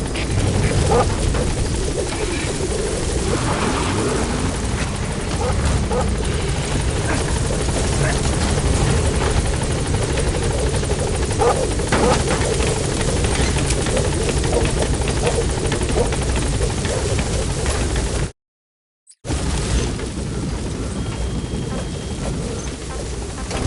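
A helicopter in a PS4 video game flies with a loud continuous rotor roar and thumping that fills the scene, briefly cutting out near the end, with bird-like cooing faint underneath.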